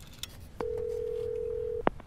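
A telephone tone sounds in a film scene: a single steady electronic beep holds for over a second after a faint click, fairly quiet over a low background hum.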